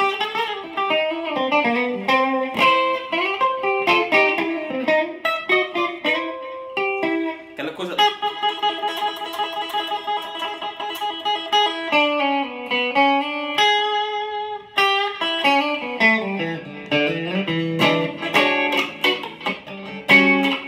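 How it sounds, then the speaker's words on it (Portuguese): Electric guitar fitted with Fender Tex-Mex pickups and played with drive rings out in sustained chords and melodic lines, clear and upfront, with no talking over it. "O Tex-Mex aqui é o som da Fender que eu tava precisando"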